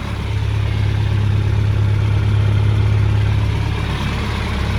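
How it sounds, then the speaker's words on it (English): Steady low rumble of a John Deere 2510 tractor's engine idling, loud and close with an even throbbing hum throughout and no voices. "I just got it idling at the moment, so it's not really running that high"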